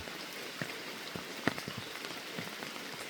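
Rain falls steadily in autumn countryside, a constant patter with scattered louder drops tapping nearby surfaces.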